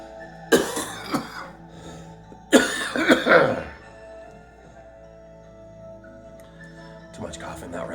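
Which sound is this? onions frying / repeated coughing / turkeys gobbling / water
repeated coughing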